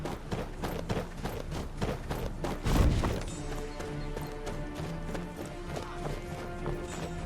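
Rhythmic hoofbeats of galloping horses in Skyrim: Special Edition, with a heavy crash midway, followed by a steady musical drone and continued clip-clop in the background.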